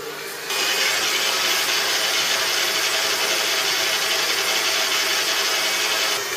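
A stand mixer runs with its flat beater working frangipane, a steady, bright whirring grind that starts abruptly and holds at a constant level, loud and close, with no voices.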